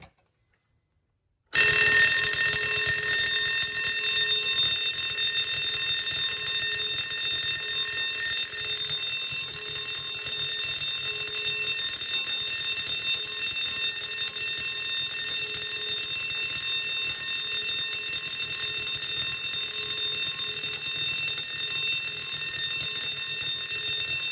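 A fire alarm bell rings continuously on a gong, a bright metallic clangour with sustained ringing overtones and a faint motor chugging underneath, loud and steady after a short silent start.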